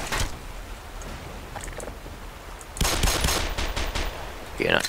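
Automatic gunfire from the video game Black Mesa, short rattling bursts over a low game background, growing louder and denser toward the end, with no talking.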